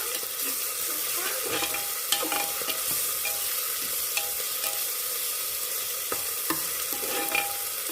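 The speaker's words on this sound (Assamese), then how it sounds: "এতিয়া ল' টু হাই ফ্লেমত মই ভাজি কৰি থাকিম অকণমান সময়" Browned onions with ginger-garlic paste sizzle steadily in a pan for a mutton curry, a constant close hiss broken by occasional clinks of stirring, with no talking.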